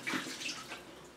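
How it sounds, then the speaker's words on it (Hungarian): Water from a small container is poured steadily over kitchen utensils during water-saving dishwashing at a sink, making a close, continuous splashing trickle with no talking. "És elkezdem vele az eszközöket leöntögetni."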